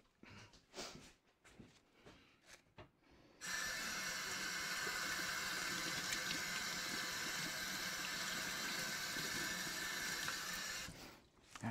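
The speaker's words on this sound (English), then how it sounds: "I'm gonna wash my hands." Tap water runs steadily into a sink for about seven seconds as hands are washed in a workshop, starting abruptly after a few quiet handling noises and cutting off near the end.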